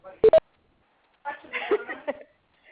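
Two quick telephone keypad tones sound as a caller dials into a conference call, followed after a pause by brief muffled speech and line noise from the joining phone.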